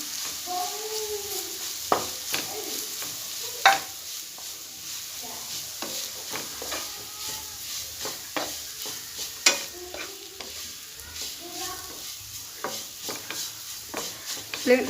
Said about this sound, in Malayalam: നമുക്ക് ഇളക്കി കൊടുക്കാം